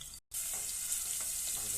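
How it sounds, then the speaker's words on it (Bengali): Garlic frying in hot oil, a bright, dense hiss that cuts out briefly near the start and then runs on steadily with faint crackles, close and even. "রসুনটা একটু ভাজা নিব তেল দিয়ে"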